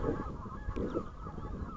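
Wild geese honk in a couple of short bursts during a spring goose hunt in Belarus, heard at moderate distance over low outdoor wind rumble.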